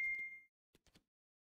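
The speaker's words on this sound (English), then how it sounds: "Oh, be quiet, phone." A phone's notification beep sounds as one steady electronic tone lasting about half a second at the start, followed by a few soft knocks.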